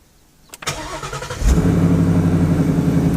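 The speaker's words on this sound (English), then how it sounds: "Cold start." A Honda Civic Type R engine cold-starts with a short cranking burst, then catches and settles into a loud, steady high idle close by.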